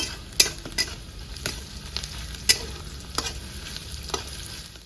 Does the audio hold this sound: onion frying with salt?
yes